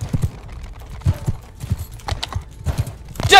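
Horse hooves clip-clop in a steady, uneven rhythm of sharp, fairly close beats in the Mount & Blade Bannerlord video game, with no talk over them.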